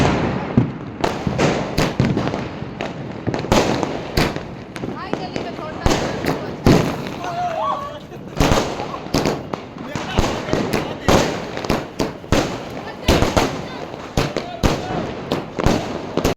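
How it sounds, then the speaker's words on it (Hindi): Diwali firecrackers and fireworks burst in a rapid, irregular series of sharp cracks and thumps, some close and loud, with faint voices in between. "अब बारी आ गई थी हमारे पटाखे छुड़ाने की।"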